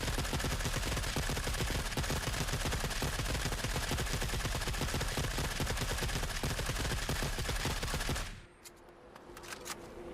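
Automatic weapon in the Forever Winter firing a long, dense, unbroken burst with recoil left uncontrolled, loud and rapid for about eight seconds before cutting off into quieter game ambience.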